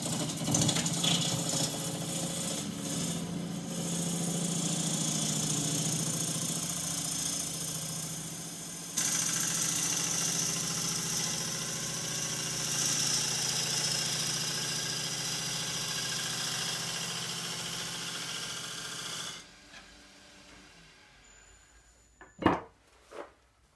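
Bowl gouge cutting pear wood spinning on a lathe, a steady hissing, shaving cut with the motor humming beneath, pausing briefly midway, then stopping, followed by a few sharp knocks near the end.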